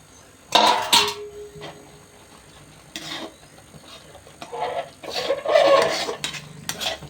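A sweet being stirred and scraped in a cooking pot, in several loud, irregular bursts of clattering and scraping separated by quieter gaps.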